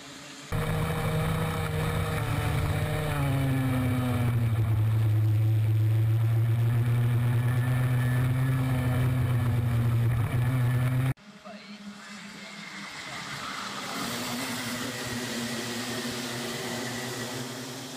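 Mini Max racing karts in a 2014 championship round pull away from the grid together, a loud sustained droning engine pack that rises and holds, then cuts to a more distant, rougher kart sound under commentary.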